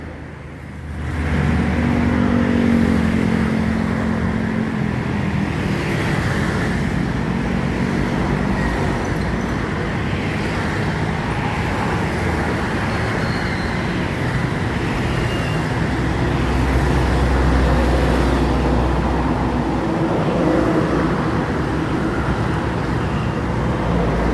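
A truck drives along the Trans-Sumatra eastern highway near Palembang, a continuous loud engine and road rumble with traffic noise that stays close throughout.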